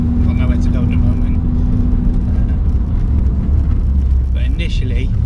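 A Renault Twingo GT with the F4RT RS133 engine and upgraded brake pads cruises down the road, its steady engine and road rumble continuous and close throughout, with faint talking at moments.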